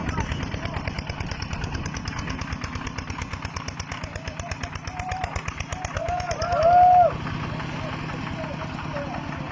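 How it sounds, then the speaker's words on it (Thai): Four two-wheel walking tractors hauling a lifted house in rural Laos, their single-cylinder engines chugging in rapid, steady putt-putt pulses close by, with people talking over the engine noise and a brief louder surge near the end. "ยกใส่รถไถนาเดินตามเราทุกคน"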